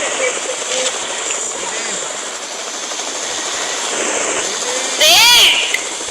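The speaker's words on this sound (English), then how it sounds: "our teammate is only taking the chopper" Helicopter in an online shooter video game, a loud continuous whirring rotor and engine drone running throughout, with players talking over it.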